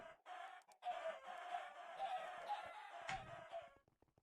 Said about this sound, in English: All those chicken killing sounds.